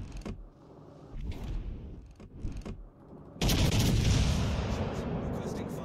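Naval guns firing in World of Warships Legends, a sudden loud sustained barrage of booming blasts after a stretch of quieter gameplay noise with a few scattered thumps and some talk.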